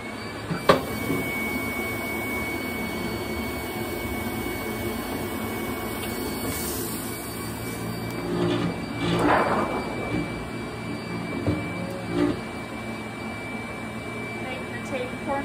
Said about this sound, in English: when you've got it lined up, turn on the vacuum.